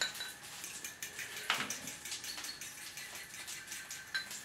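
Pots, pans and cutlery clink and clatter in a home kitchen during cooking, a steady run of small metallic knocks with one sharper clash near the middle, fairly close.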